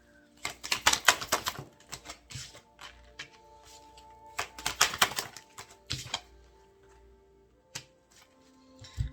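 Tarot cards are drawn and laid out on a table in quick clusters of crisp flicks and slaps, near and fairly quiet, with pauses between the draws.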